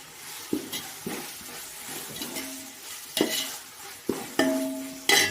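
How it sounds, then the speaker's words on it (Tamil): Ginger garlic paste for vegetable pulao sautés with a gentle sizzle, punctuated by half a dozen sharp spoon scrapes and a metallic clink against the pan, close and quiet. "போட்டு நல்லா மிக்ஸ் பண்ணி வச்சோம்னா இஞ்சி பூண்டோட பச்சை வாசம் போகிற வரையும் நல்லா வதங்கிட்டோம்"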